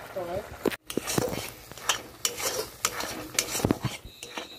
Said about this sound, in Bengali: এবার উনান বা ওভেনের আঁচটা একটু লো করে তারপর অনবরত নেড়ে চেড়ে নিচ্ছি নিজের থেকে